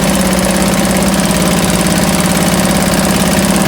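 A 1971 Johnson Mate 2 hp outboard motor runs steadily after a carburetor clean, a loud, close, even buzzing drone with a fast regular pulse and no breaks, heard alone without voices.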